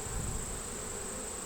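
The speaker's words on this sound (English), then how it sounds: "These bees are starting to get real chippy here towards the bottom." Agitated honey bees buzz in a hive, a steady dense drone that holds without a break and is heard alone at moderate volume.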